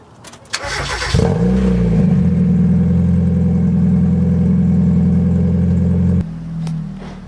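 A Mazda Miata starts up and settles into a loud, steady engine drone close by, holding for about five seconds before dropping to a lower hum.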